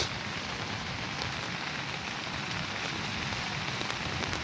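Heavy rain drums on a camping tent in a dense, unbroken hiss of drops that stays loud and constant throughout, with no voices.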